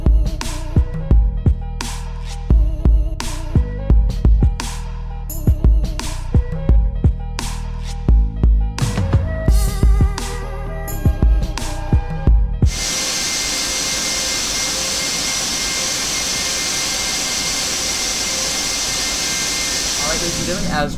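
A TFDi B717-200 in a Prepar3D v4 flight simulator, taxiing with a steady jet engine roar and hiss, preceded by a run of sharp clicking and thumping cockpit noises.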